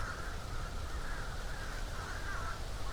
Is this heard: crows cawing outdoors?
yes